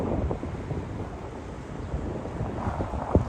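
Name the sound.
wind on the shore near Kansai airport bridge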